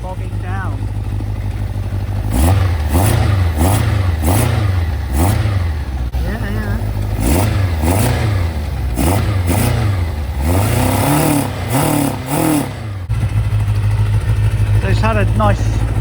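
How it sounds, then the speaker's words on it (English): Close, loud Kawasaki Zephyr 750 motorcycle engine revved again and again, each rise in pitch faltering and bogging down on acceleration, with a steady idle between the bursts. "which is when you accelerate, that bogging"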